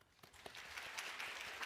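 Congregation clapping in a church during a Sunday worship service: dense, sustained applause that swells in after a quiet start and continues steadily to the end, with no voices on top.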